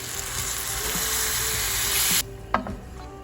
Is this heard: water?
yes